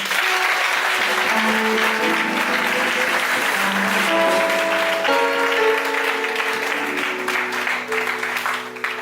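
A church congregation claps together during a worship service, a dense sustained wash of hand claps that stays loud and steady throughout, with music and voices faintly mixed in.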